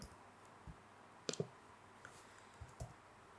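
A few sparse, soft keystrokes on a computer keyboard, typing a short command, clustered around the middle and end of a quiet stretch with faint background hum.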